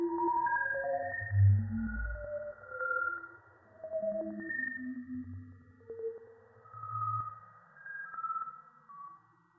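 Sonification of an astronomical image, with data turned into a sequence of soft, scattered synthetic tones and low hums that drift and pulse steadily at a quiet level, with no voices.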